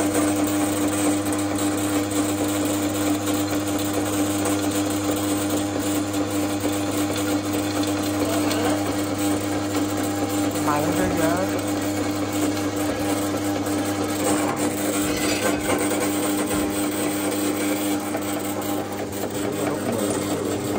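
A drill runs continuously for about twenty seconds in a workshop while a steering wheel paddle shifter is built, a loud, steady motor whine with shifting tones as it bites into the material.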